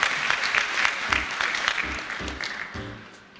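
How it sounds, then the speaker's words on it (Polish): Audience applause at a concert opening a festival, a dense, loud, steady wash of many hands clapping that slowly fades toward the end, with faint voices underneath. "Wspaniali ludzie. Brawa."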